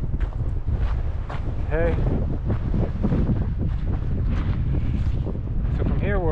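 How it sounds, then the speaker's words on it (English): Strong, gusty wind on a desert trail in Red Rock Canyon buffets the microphone with a constant roaring rush, loud and close. A voice speaks briefly over it. "Wind's brutal today."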